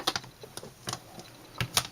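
Several crisp plastic clicks and knocks sound up close as the door of a stamping tool is closed over a poinsettia Christmas stamp, irregular and spread out, with quiet pauses between them.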